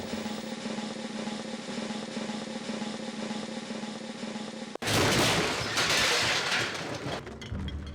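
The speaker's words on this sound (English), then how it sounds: "We actually catapulted a model Superman out of an air mortar." A compressed-air mortar catapults a model Superman during a 1978 film effects test: a steady mechanical drone cuts off at a sharp bang, followed by a loud, sustained rushing blast with rattling debris.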